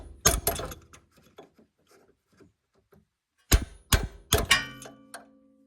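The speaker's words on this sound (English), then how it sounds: "then just hit it with a hammer." A hammer strikes a punch set against a metal suspension boot clamp on a Ford Escape front suspension, giving several sharp, close metallic knocks in a quick cluster, preceded by one earlier hit and quiet handling noises.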